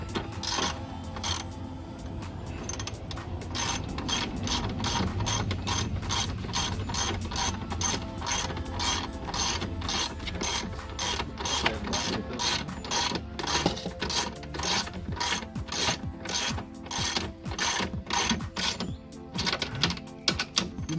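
Ratchet wrench tightening the oil drain bolts on a BMW F10 528i, a long steady run of sharp close pawl clicks in even rhythm, continuing without pause for about twenty seconds with only faint background noise.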